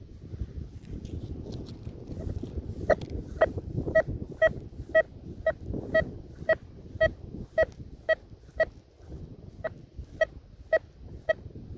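A Golden Mask 5+ metal detector gives a series of short, evenly repeated electronic beeps, clear and fairly loud over a low rumbling background.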